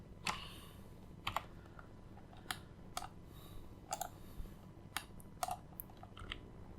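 Computer keyboard keys click sharply and sparsely in short irregular taps, close and fairly quiet, while someone works in Blender 3D software; no talking is heard.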